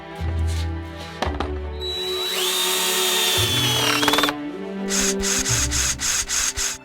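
A power drill whirs in bursts while driving screws that fasten metal bars to a giant popcorn bucket frame, with a long sustained run and a rapid string of short pulses at the end.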